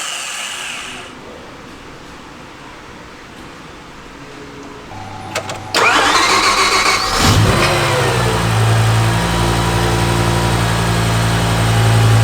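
A BMW M6 with a V10 engine cranks and fires up after a quiet stretch, catching with a burst and then settling into a loud, steady idle with a high whine over the rumble.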